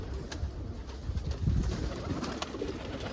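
A young crested almond Homer cock pigeon coos outdoors in soft, low repeated calls, fairly close, over light ambient noise.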